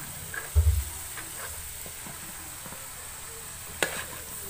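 Vegetables cooking in oil in a pan, giving a soft, steady sizzle at low volume, with a couple of brief low clunks of a utensil stirring against the pan, one early and one near the end.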